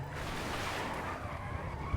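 A modded Tofaş car drifting in GTA 5, its tires squealing in a long, steady skid, heard fairly quietly and without talk.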